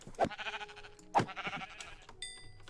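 Sheep in the video game Minecraft bleat twice in quick succession, short wavering calls heard close and fairly soft, followed by a brief chime-like game sound.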